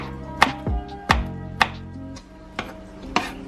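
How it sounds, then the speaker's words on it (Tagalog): A knife chops garlic on a cutting board, five or six sharp distinct knocks spaced about half a second apart, close and clear, with no talking. "I-chop na pala natin ang bawang."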